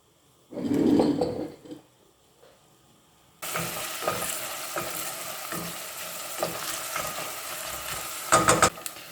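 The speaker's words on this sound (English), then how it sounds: "So I'll cook them for 6 to 8 minutes till they're nice and golden." Sausages or beans frying in a pan for a Turkish bean stew, a steady close sizzle with occasional stirring clatter after a brief louder burst at the start.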